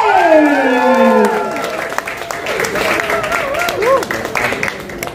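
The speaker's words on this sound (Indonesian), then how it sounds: "Kasih tepuk tangan dulu dong" An audience applauds and cheers at an actor-introduction press conference and series shooting kick-off, a full burst of clapping that gradually thins while a host's amplified voice talks over it.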